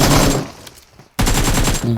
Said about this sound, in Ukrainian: Так, ще в тій стороні хтось стріляє.